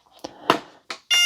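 Several short electronic beeps from a Samsung phone as a timer is set, ending in a longer steady tone, close and clear with no talking.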